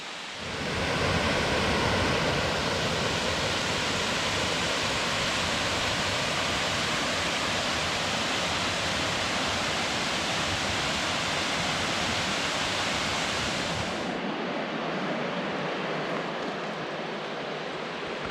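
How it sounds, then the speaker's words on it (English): Steady, loud roar of a waterfall rushing nearby, a dense continuous wash of falling water that holds for most of the clip before its low end suddenly drops away near the close. "Let's try to get that waterfall over there."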